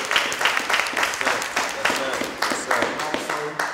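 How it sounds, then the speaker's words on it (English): A room full of people clapping in a rough, uneven rhythm, moderately loud and close, with voices talking over the applause. "Give a round of applause."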